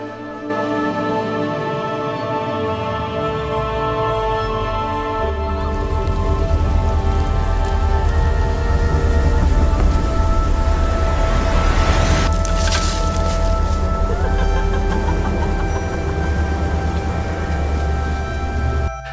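Heavy rain pours steadily in a horror film scene, a dense continuous roar with a low rumbling undertone and music-like tones layered over it, loud and unbroken throughout.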